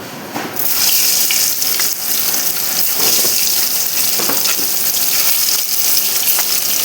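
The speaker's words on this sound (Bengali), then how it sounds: "ডিম সাথে তেলে দেওয়ার পর না অনেক সময় ডিমটা ফেটে আসে" Eggs fry in hot oil, a loud, continuous close sizzle with a gushing hiss and no voices.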